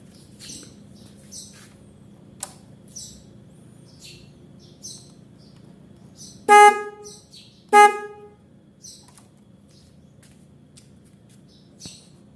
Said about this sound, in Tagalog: i-sound check po natin kung gagana yung busina natin